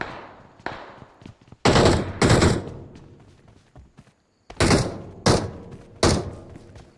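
Gunfire in the battle royale game BGMI (PUBG), with an M24 sniper rifle in play: five heavy, loud shots spaced apart, each ringing out with a booming tail, separated by quieter gaps, with no talk.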